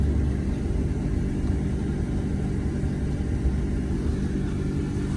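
A 1996 Dodge Ram's 360 V8 runs at a steady idle, a continuous deep low rumble that stays even and close for the whole stretch with no talk.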